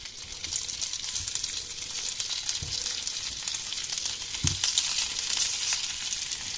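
Pierogi fry in butter in a pan with a steady, soft sizzle throughout, broken by a few low clunks as the dumplings are moved or turned.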